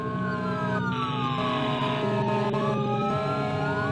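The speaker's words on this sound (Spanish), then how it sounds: "escuchamos que se acercaba una ambulancia y dos patrullas más" Several wailing sirens from an ambulance and police cars overlap, sweeping up and down in pitch, loud and steady throughout as the vehicles close in.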